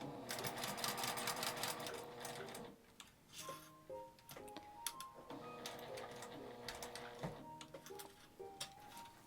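A home sewing machine stitches a twill tape shoulder strap fitted with a snap hook, its fast mechanical rattle running in bursts that stop and restart, fairly quiet throughout.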